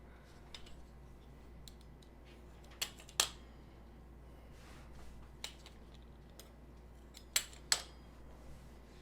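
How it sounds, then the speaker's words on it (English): Scissors snipping the excess tails off freshly made homemade ravioli, a handful of sharp, separate cuts spaced irregularly over a quiet kitchen background with low hum. "now let's kind of cut the little tails off of this."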